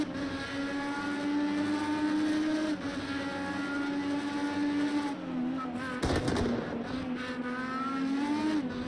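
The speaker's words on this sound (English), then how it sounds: "We heard his engine go pup pup pup" An Indy race car engine in a racing video game, at Watkins Glen, drones loud and steady with high harmonic whine, briefly breaking and dipping around a gear change before pulling again.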